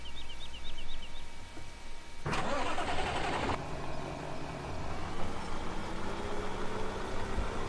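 A tractor engine in the Farming Simulator 17 video game runs steadily throughout, with a louder, brighter burst of engine noise for about a second partway through before settling back into a continuous mid-range drone.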